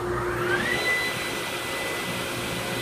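Two-stage dust collector with an HF blower and Super Dust Deputy cyclone running, a loud, steady roaring whoosh with a rising whine as it spins up, heard close and alone.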